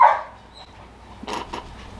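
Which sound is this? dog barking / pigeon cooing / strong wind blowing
dog barking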